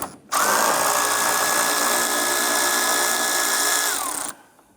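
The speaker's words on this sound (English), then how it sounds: "let's go ahead and remove this nut" A power ratchet with a 13mm socket on an extension spins off a windshield wiper arm nut on a 1994-2004 Chevrolet S-10, giving a loud, steady whirring whine for about four seconds with no voices.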